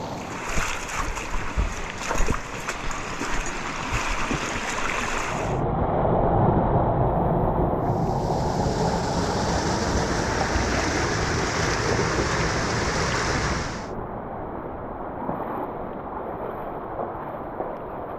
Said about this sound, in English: So now the creek is double the volume.